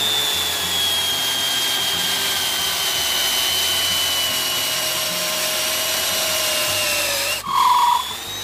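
A steady motorised whine with high tonal harmonics runs for about seven seconds, then stops and gives way to a short rougher burst. It fits an OZITO drill boring a hole in wood after a bit has been fitted and sharpened.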